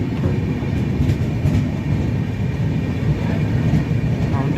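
Karnataka Express passenger train passing through a mountain tunnel, a steady loud low rumble of wheels and carriages with constant roar and no letup throughout.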